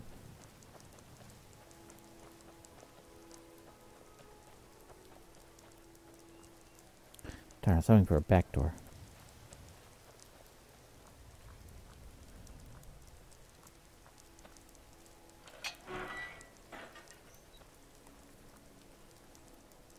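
Soft rain patters steadily in the video game Skyrim, a faint even hiss running throughout beneath a brief burst of male speech and a later short line of talk.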